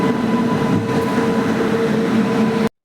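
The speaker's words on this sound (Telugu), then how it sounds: "ఫైనల్గా రైల్వే స్టేషన్లో ఉన్నాము" A train rumbles at a railway station, a loud, steady rolling roar with a faint tonal hum of wheels and carriages close by, cutting off abruptly at the end.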